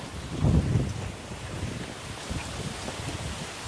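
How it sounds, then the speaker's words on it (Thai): Wind gusts outdoors, a broad rushing roar with a strong buffet early on and then a steady, moderately loud blustering, no voices. "ลมมาละอันนี้จ้ะ"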